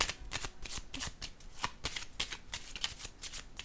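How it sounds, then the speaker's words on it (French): Playing cards handled and shuffled by hand, a quick series of riffling snaps and soft flicks in a steady rhythm, close and fairly quiet, with no talk. "Voyons, j'en perds mes cartes."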